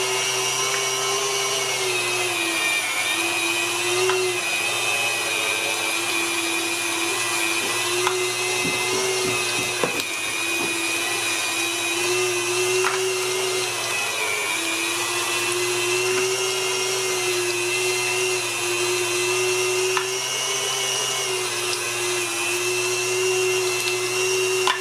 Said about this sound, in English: the mincer, the KitchenAid to 10, straight off the bat